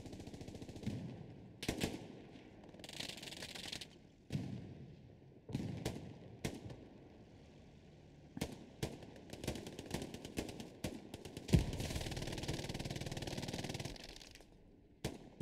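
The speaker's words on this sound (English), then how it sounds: "Vadi really on fire with that MG right now." Bursts of MG42 machine gun fire in the Hell Let Loose game crack out in short and longer rattling strings, close and loud, separated by brief pauses, with faint distant gunfire between.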